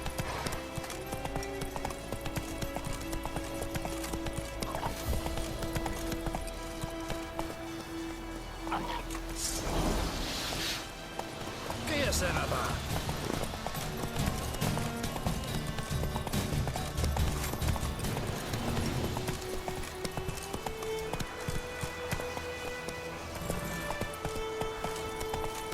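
A horse gallops in The Witcher 3 video game, with a steady, loud clip-clop of hooves running continuously over ambient game sound, joined by a brief whinny near the middle and a few faint dog barks.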